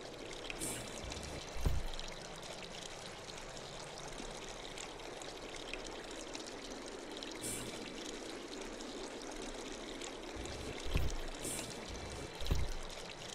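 Water in the video game Inked flows and pours steadily without a break, a continuous rushing wash that carries on for the whole stretch, with a few soft thumps rising over it now and then.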